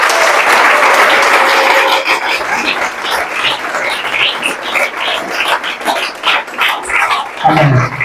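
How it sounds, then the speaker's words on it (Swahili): A church congregation claps loudly and continuously in a steady roar of applause that thins toward the end, and a voice comes in at the very end. "Ampe Bwana Yesu makofi."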